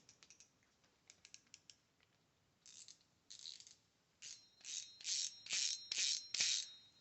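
A cheap painted-plastic Sougayila DL30 spinning fishing reel is cranked, giving quiet clicks that build into bursts of rapid ratcheting whirs, close and isolated.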